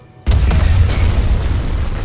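A loud, sudden blast of a barricade exploding in the video game Dead Space (2023) erupts after a moment of quiet, followed by a sustained rumbling roar that slowly settles.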